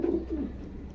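A male Kasban racing pigeon gives a short, close coo, a throaty low rolling call lasting under a second with no voices.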